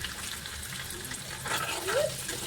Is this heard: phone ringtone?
no